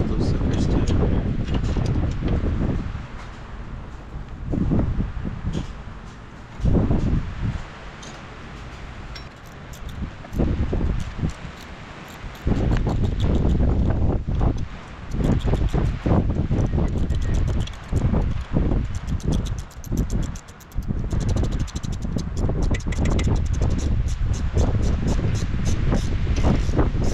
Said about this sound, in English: Man, it's crazy wind.